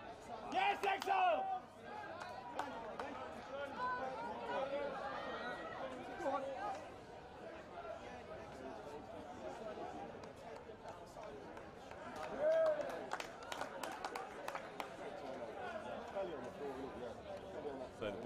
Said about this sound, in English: you can hear the crowd that's right behind our cameraman there